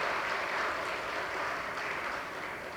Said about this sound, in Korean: 우리 박수로 한번 축복해 주십시오